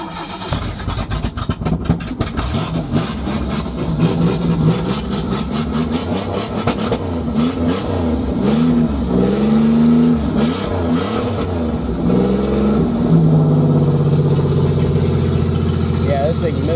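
A 1993 Regal car engine idles and revs while misfiring badly, its uneven, stumbling note rising and falling close by, with people talking over it.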